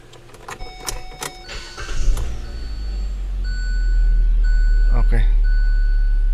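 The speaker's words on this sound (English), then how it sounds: "So let me just start this car." A Hyundai Elantra engine cranks and catches, settling into a steady low idle, with a few clicks and beeps and some background chatter early on.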